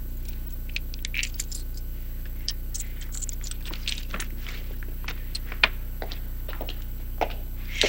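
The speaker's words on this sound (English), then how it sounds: "These were the keys that Bianca had when she was staying here." Keys jingle and clink in light, scattered bursts for several seconds over a low steady room hum. The sound is fairly quiet and close, with no one speaking.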